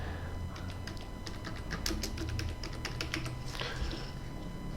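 Typing on a computer keyboard while entering an item name into hospitality software, heard as a close run of quick, irregular key clicks over a low steady background hum.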